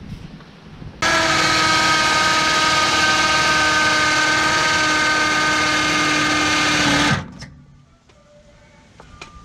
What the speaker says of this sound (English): I just use a drill bit and see if we could drill